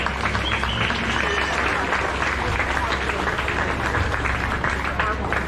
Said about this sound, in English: You would give all 6 of those exhibitors a big round of applause.